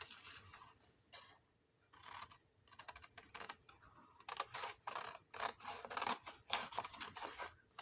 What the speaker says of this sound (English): Now I'm going to go to cut this out.